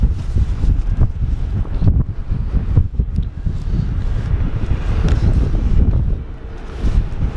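Gusty wind buffets the microphone at Sydney Airport, a continuous heavy low rumble with surging gusts throughout, loud and close, with no talk.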